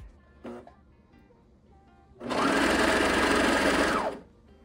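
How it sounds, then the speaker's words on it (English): Sewing machine stitching stretchy Under Armour shirt fabric into a leotard: one short burst, then a close, loud steady run of about two seconds before stopping. "And then pinch it, let go, and then sew a little bit."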